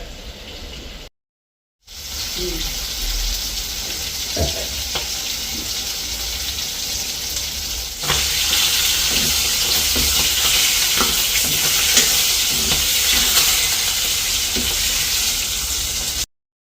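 Steady bubbling and sizzling of a fish curry simmering in a pot nearby, a continuous hiss with occasional soft clinks of a spoon, growing slightly louder partway through.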